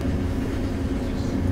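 A first-class overnight train running through Finland gives a steady, loud rumble of rolling wheels and carriage noise that continues without a break.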